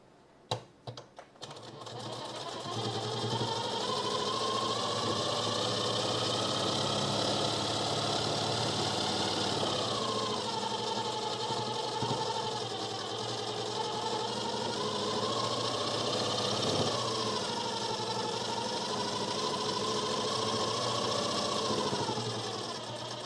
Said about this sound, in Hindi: इसको पलटा करके ऊपर एक सिलाई चला लेंगे।